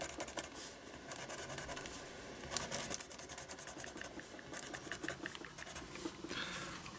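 Pencil tracing over drawn lines to transfer graphite onto an art journal page, a continuous close scratchy scribbling with uneven strokes and brief louder scrapes, no talking.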